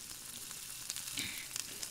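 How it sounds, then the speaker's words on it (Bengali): Vegetables frying in a pan with pumpkin in the mix, stirred for a Bengali vegetarian dish: a steady close sizzle with scattered scraping clicks of a utensil against the pan. "এখন মা ভালো করে নেড়ে চেড়ে নিচ্ছে।"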